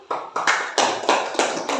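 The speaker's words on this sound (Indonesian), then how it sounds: "beri tepuk tangan dulu." A few hands clapping in a loose, steady rhythm, about six bursts close by, with no talking.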